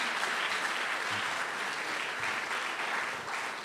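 Steady applause from an event audience for a group of speakers at a panel evening in New York, dense and even throughout, moderately loud with faint voices underneath.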